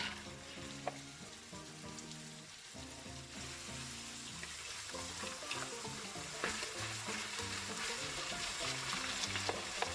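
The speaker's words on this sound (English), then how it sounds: "almost like you're stir frying the chicken" Steady crackling sizzle of chicken frying in hot oil, with occasional stirring clinks over a continuous hiss.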